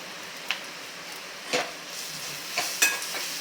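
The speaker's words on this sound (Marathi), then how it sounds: "क्रश केलेला आलं घालून घेऊयात मिक्स करायचे त्यानंतर चवीनुसार मीठ घालून घ्यायचे आहे" Shredded cabbage paratha filling is mixed with crushed ginger and salt, heard as a few sparse, soft scraping and stirring strokes against a quiet background, with no talking.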